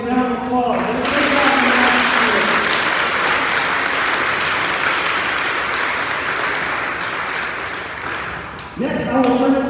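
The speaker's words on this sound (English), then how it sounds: "Let's give all of these math award recipients one big round of applause." Sustained crowd applause for math award recipients at an 8th grade awards ceremony, loud and steady for about eight seconds, with a voice speaking briefly before it starts and again as it fades.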